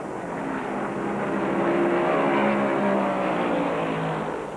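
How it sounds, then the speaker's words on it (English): Stock cars racing at the 1971 Daytona 500, a steady loud engine roar with a slowly shifting pitch as cars run in a draft, continuous and fairly near. "Baker tucks into Petty's draft, and both cars move away from the other front-running challengers, Donnie Allison, Bobby Allison, and Foyt now"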